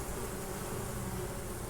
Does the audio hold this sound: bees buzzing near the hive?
yes